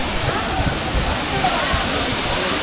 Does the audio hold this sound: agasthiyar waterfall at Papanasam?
yes